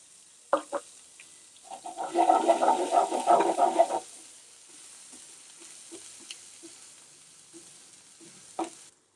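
Boiled vegetables tossed into a pan with golden-brown garlic for paneer fried rice, a burst of sizzling frying for about two seconds, then quieter crackle with scattered stirring clicks and scrapes.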